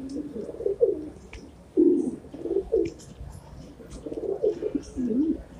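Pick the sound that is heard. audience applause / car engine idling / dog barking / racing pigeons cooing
racing pigeons cooing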